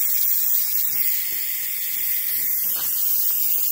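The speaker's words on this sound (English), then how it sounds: "So I'm releasing the steam." Steam hisses steadily from a pressure cooker's release valve during cooking of tri tip and potatoes, a continuous broadband hiss heard close and alone for the whole span.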